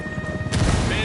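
In the video game Ghost Recon Wildlands, a frag grenade goes off midway through, a sudden loud crashing boom that follows a stretch of rumbling gunfire and lingers as a noisy roar.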